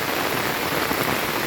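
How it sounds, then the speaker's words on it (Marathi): Torrential monsoon downpour lashes a waterlogged, ploughed field near a swollen village river in the Konkan, a thick continuous roar of raindrops with no break and nobody speaking. "पावसाने पण आता परत जोर धरला आहे बघा"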